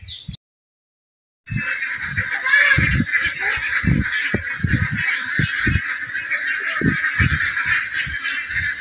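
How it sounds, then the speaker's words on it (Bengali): A group of ducks swimming together on rising flood water gives repeated honking quacks in an uneven rhythm, close and fairly loud over a steady background hiss, after a brief silent gap. "হাঁসটি একসাথে যাইতেছে, কত সুন্দর দেখা যায়।"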